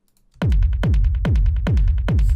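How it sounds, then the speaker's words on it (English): Techno kick drum layered with a rumble bed, reverb, distortion and a low pass filter, thumping five times at a steady pace, each hit a loud, booming low thud with a long, dark tail, alone. "you have the rumble, which is classic rumble, you know, it's part of my kick verb rack with reverb distortion"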